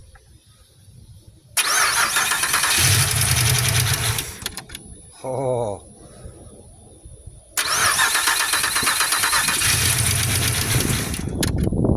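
A 2006 Pontiac Grand Prix GT engine cranks and catches twice, settling into a steady idle each time, with a brief spoken exclamation between the starts.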